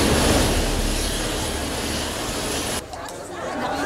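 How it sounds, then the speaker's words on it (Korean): A military helicopter runs loud and close, giving a dense, constant engine and rotor roar that drops suddenly in level near the end while continuing faintly, with no voices over it. "도시 기반 시설이 모두 망가진 상황에서 유일한 통로는 군용 헬기"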